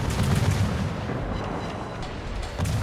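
Warship guns firing in a naval battle video game: heavy, booming salvos with rumbling blasts at the start and the end, over a continuous loud, roaring background.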